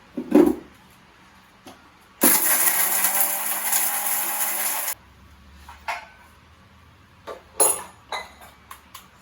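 A mixer grinder whirs loudly for about three seconds as it grinds biryani masala to a fine paste, with light clinks and taps of the jar and lid before and after.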